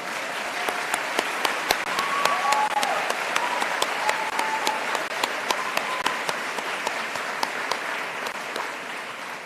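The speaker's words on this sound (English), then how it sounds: "I think we all deserve another round of applause for this" A graduation ceremony crowd gives a steady round of applause, dense clapping with sharp individual claps standing out, holding at an even level throughout with no talk over it.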